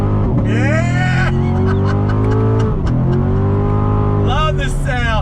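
A C7 Corvette Grand Sport V8 pulls hard in first gear from inside the car, its loud engine note climbing in pitch, dipping at a shift, then rising again, with a voice briefly calling out over it.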